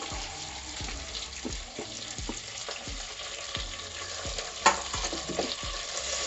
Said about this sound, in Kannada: ಎಲ್ಲ ನೀಟಾಗಿ ಹಸಿ ವಾಸನೆ ಹೋಗೋವರೆಗೂ ಫ್ರೈ ಮಾಡ್ಕೊಳ್ಳೋಣ